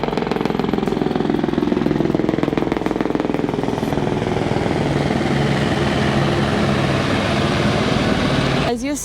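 Loud, steady helicopter rotor thudding and engine roar close by on a mountain trek between Joshimath and Ghangaria, continuous throughout with a brief change at the very end.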